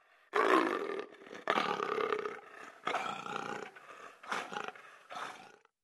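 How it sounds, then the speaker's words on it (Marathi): An adult male leopard held at a forest department rescue centre gives five deep, rasping growl-roars in close succession, each loud and close, separated by short pauses. "माझ्या मागे हा जो बिबट्याचा नर आहे"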